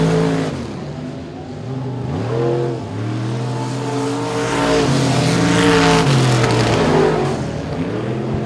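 Limited modified race cars roar around a speedway oval on the final lap, their engines loud and continuous, sweeping up and down in pitch as they power down the back straight and through the turns.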